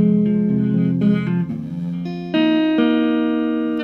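Electric guitar plucking a single-note melody in a tutorial, a steady run of distinct notes ringing out clearly and alone, each note sustaining into the next.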